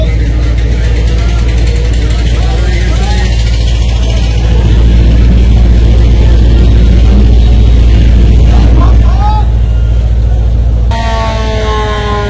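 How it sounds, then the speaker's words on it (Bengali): A Tasrif-3 passenger launch's engine runs with a steady, loud low drone that stays constant throughout, with a brief shift in tone near the end. "ইঞ্জিন অলরেডি স্টার্ট করে ফেলছে"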